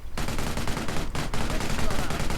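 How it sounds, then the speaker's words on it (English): Vickers machine gun in a World War II strategy game firing rapid sustained bursts, dense rattling rounds mixed with other battle gunfire, one short pause partway through before the firing resumes. "At least the Vickers is firing again"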